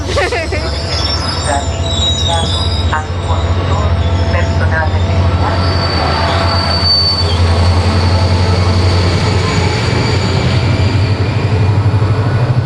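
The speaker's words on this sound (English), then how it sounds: "Very noisy train wheels" Loud, sustained metallic squealing of train wheels with rail rumble underneath, continuous and close throughout.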